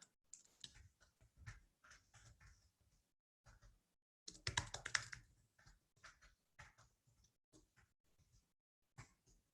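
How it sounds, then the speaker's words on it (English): Bursts of typing on a computer keyboard while an SMS follow-up message is entered, uneven key clicks in clusters with pauses between, close and fairly quiet, with one denser flurry of keystrokes midway. "having trouble typing."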